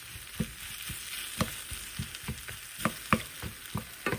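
Shahi paneer gravy frying in a pan, a steady close sizzle with repeated soft scraping stir strokes in an irregular rhythm, no voices.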